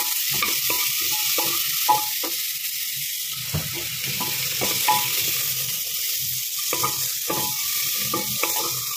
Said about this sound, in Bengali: এবার এটাকে ভালো করে একটু নাড়াবো।